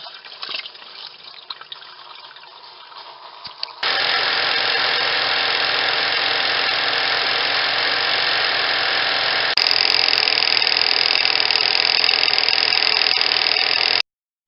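A washing machine spins out a light blue washcloth, a low steady motor hum with water rushing that steps up into a louder, sustained high-speed whine, close and continuous.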